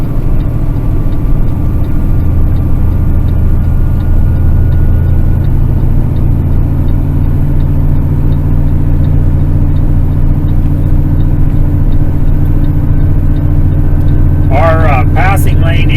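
A loaded truck climbs a hill on a remote Utah mountain road, its engine a steady low drone with a constant rumbling hum throughout. A voice is heard briefly near the end.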